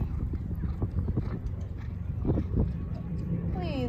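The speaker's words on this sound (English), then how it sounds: "Walk your horses, walk your horses" Horses walk around a show ring, their hooves clip-clopping steadily and fairly close while a voice talks over them and an occasional whinny comes through.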